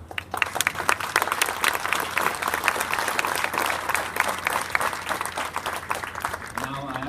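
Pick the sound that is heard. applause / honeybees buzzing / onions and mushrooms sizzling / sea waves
applause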